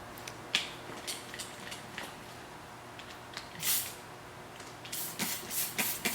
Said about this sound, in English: we're just going to do the waterless wash, and we're just going to spray it real good